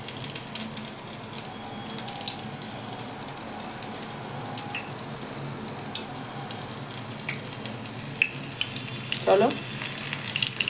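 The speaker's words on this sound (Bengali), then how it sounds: "এইভাবে সবগুলোকে আস্তে আস্তে ভাজতে হবে।" Batter-coated pieces of pumpkin frying in a pan over a low-to-medium gas flame give a steady, even sizzle throughout, with a few brief clinks near the end.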